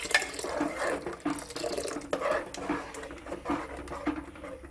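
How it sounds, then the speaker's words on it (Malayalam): Water is poured into a cooking pot for a kootu and raw banana erissery, a brief close splashing and gurgling pour that fluctuates in strength over a few seconds, with no talking. "പാകത്തിന് വെള്ളവും ഒഴിക്കുക കേട്ടോ"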